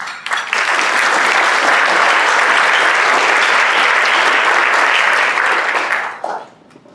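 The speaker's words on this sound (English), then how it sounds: "please stand so we can applaud you as well" Steady, dense applause from a seated audience at a Rotary club meeting, welcoming new members; close and full, lasting several seconds before tapering off, with no talking over it.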